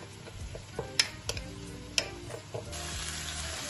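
A spoon scrapes and stirs karahi masala into lamb in a pan, with a soft sizzle underneath, a few sharp clinks against the metal, and a steadier frying hiss toward the end.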